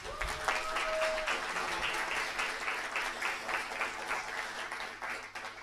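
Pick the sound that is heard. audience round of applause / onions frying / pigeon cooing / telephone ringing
audience round of applause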